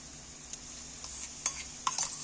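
Onions being stirred in a pan during a dum mutton curry, with a quiet steady sizzle and a few soft spoon scrapes and clinks against the metal, no talking.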